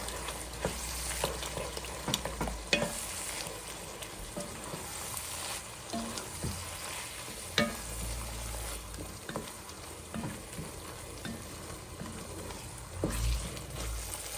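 Stirring a canned ingredient into beef stroganoff in a pan: a steady low sizzle broken by repeated scraping and clunking of the spoon against the pan, up close and without talk.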